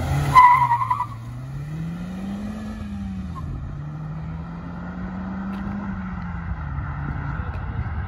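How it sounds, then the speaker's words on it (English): A hybrid-turbo Opel Astra OPC, a near-stock car with a limited-slip differential, pulls hard on the road, its engine note rising and falling through the gears as a steady drone with a brief louder burst at the start. "Ems is gonna do a pull for us now with the OPC"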